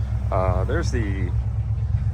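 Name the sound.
car engine idling at about 900 RPM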